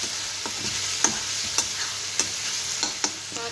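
Tomatoes stirred into golden-brown fried onions and cooked peas in a pan, a steady soft sizzle with several sharp scraping clicks of the spoon recurring through it, close and alone.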